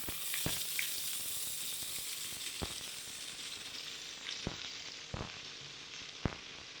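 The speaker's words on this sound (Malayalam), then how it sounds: "എണ്ണ ചൂടായി വന്നിട്ടുണ്ട് ഇനി ഇതിലേക്ക് നമ്മൾ മുറിച്ച് വെച്ചിരിക്കുന്ന സവാള ചേർത്ത് കൊടുക്കാം" Sliced onions hit hot coconut oil in a pan and hiss in a steady close sizzle, with a few sharp scrapes and taps of a spoon scattered through it.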